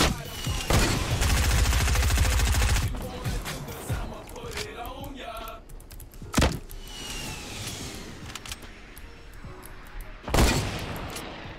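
Gunfire in the Fortnite video game, with a burst of rapid fire followed by several sharp, loud single shots spaced a few seconds apart, mixed with other in-game effects and some speech.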